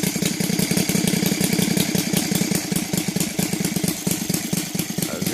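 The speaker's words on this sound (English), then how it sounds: "As you can see, it idles pretty good." A Laser 300 engine converted to gasoline and fitted with a CH ignition idles nearby, a steady, rapid chugging pulse with a mechanical clatter that holds for several seconds.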